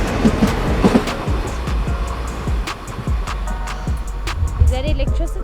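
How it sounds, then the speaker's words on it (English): A train rounding a corner on railway tracks near Howick, South Africa, heard up close as a loud rumble with rhythmic clacking and squealing wheels, with people talking and shouting over it. "She was on the tracks when the train decided to come around the corner."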